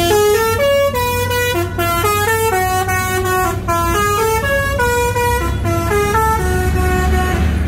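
Rosalia Indah executive bus passing on a road beneath a flyover near Cikarang, sounding a loud melodic multi-tone horn that plays a rapid tune over a low engine rumble, close and continuous.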